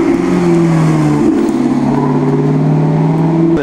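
An Alfa Romeo touring car at a concours d'elegance drives close past, its engine note loud and steady with a falling pitch sweep as it goes by and a sharp rise at the very end.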